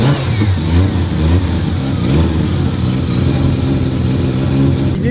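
A rotary engine in a Nissan 180SX shell revs loudly up close, throaty and pulsing with rising and falling tone, continuous throughout with no talk.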